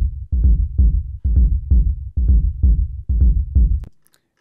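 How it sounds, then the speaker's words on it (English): Filtered kick drum rumble layer in a techno track, a series of deep booming bass hits pulsing in an offbeat groove, loud and alone, then cutting off. "There's a rumble, which was just one of the kick drum layers"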